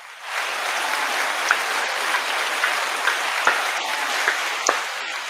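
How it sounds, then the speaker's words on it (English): A crowd applauds steadily from just after the start, a broad even wash of clapping that holds at a moderate level, with a few sharper individual claps standing out. "Give a round of applause for Jamel, the East Side reviewer."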